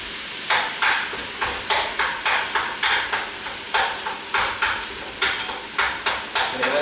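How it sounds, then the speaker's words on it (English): Onions sauté in a pan while a utensil stirs them, giving a steady frying sizzle broken by regular, rhythmic scraping strokes, close and clear with no talk. "let that saute"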